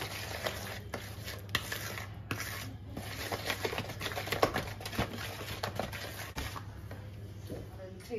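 Salt being stirred into macaron batter in a bowl, a steady run of soft scraping and tapping strokes close by, with a voice speaking over parts of it.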